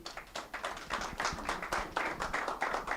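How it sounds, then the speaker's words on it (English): An audience at a Deloitte and UKGCC business webinar claps in quick, fairly regular sharp claps, moderately close and steady for a few seconds, without talking. "Another round of applause for Mohsin."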